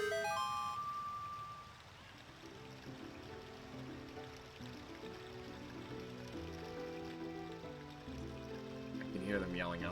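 A rushing waterfall at Zora's Domain in the video game Ocarina of Time, a steady watery wash running throughout beneath game music.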